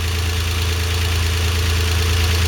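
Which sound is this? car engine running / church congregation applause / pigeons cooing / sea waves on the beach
car engine running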